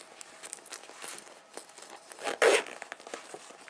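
A dark navy bag's zipper is pulled closed in short, scratchy bursts with small clicks and rustles, ending in one louder rasp near the close; nearby and fairly quiet, with no talking.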